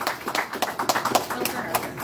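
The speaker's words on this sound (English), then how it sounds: "let's give a round of applause for Bill." An audience claps at a 2024 Pride candidate forum in Volusia. Crisp, uneven hand claps sound fairly close, with voices talking over them.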